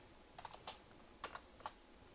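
Keys on a computer keyboard click in a quiet room, a handful of scattered, light taps heard close up with uneven pauses and no talking.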